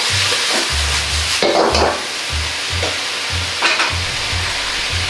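Pork and green pepper strips stir-fried for qingjiao rousi, loud close sizzling with rhythmic tossing and scraping of the wok, a low hum pulsing beneath, no speech.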